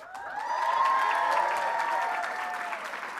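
A plenary audience at a challenge finals event claps in a steady wash of applause lasting a few seconds, moderately loud in a large hall, while a voice continues over it.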